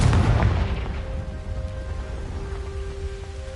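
A Confringo spell explodes in a Hogwarts video game, giving one deep booming blast that fades into a low rumble with faint ringing tones.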